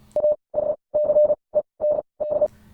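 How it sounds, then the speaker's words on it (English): Morse code tones spelling out a word, hidden at the end of the Kanye Quest 3030 release trailer: a clean, steady beeping tone in short and long bursts with gaps between, loud and alone. "Ascend in Morse code"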